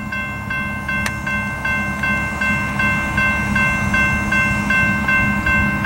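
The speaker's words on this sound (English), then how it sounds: "Yeah, that's a freight train." A CSX freight train rolls steadily past at close range, a continuous loud rumble of wheels and cars with a steady rhythmic clicking running through it and a single sharp ping near the start.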